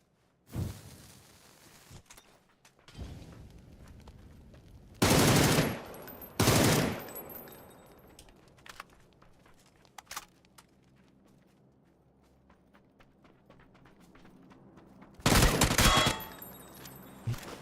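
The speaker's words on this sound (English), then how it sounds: "I thought he shot me with a shotgun." Gunfire in a console battle royale game, loud isolated bursts of shots separated by quieter stretches with faint footsteps and ambient game noise.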